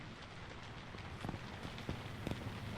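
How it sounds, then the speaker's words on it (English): Rainfall in the video game H1Z1, a soft continuous hiss of rain with scattered faint pattering drops and a few slightly louder ticks, fairly quiet and without speech. "Oh raining yeah"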